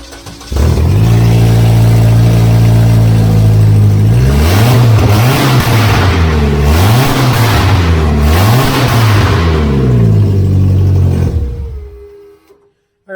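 A car engine with a no-start fault, after its alternator, throttle pedal and fuel pump wiring have been worked on, roars loudly close by and revs up and down in repeated surges for about ten seconds, then cuts off.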